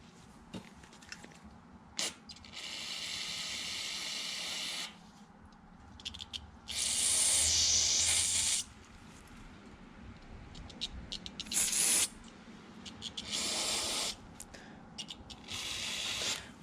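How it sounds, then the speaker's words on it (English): Carb cleaner sprayed onto the carburetor of a Craftsman 21-inch 5hp two-cycle single-stage snowblower, heard as several loud hissing aerosol bursts of a second or two each. Quieter clicks and handling noises fall between the bursts. "I'm going to hit this one more time with carb cleaner."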